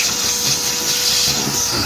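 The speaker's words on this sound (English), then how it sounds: "We'll vacuum everything out once again." A shop vacuum runs steadily and loudly up close, sucking debris out of the coolant passages of a Honda K20Z3 engine after a coolant bypass tap job, with a constant airy roar throughout.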